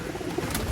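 Racing pigeons cooing in a loft, a soft, brief low murmur, close and quiet against a faint background.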